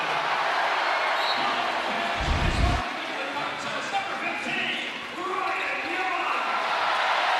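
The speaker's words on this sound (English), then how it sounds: "The crowd roaring because the legendary Blue Devil Grant Hill is in attendance here tonight." A packed basketball arena crowd roars steadily at a 2023 Duke versus Virginia Tech college game, loud and continuous, with a single deep thump of a bouncing ball partway through.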